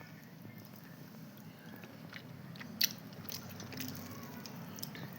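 Someone eats a fish-oil fritter (bora) and chews it close up, with soft, faint mouth sounds, one sharper crunchy bite, and a low steady background hum.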